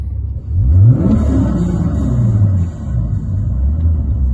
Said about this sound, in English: when the engine's running, you'll hear those pumps quieting down as they're basically getting full of oil